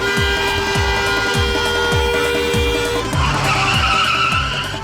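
Cars race in a wedding procession with tires squealing in long skids and engines revving hard, loud and continuous, with repeated rising engine sweeps and a horn-like tone running through.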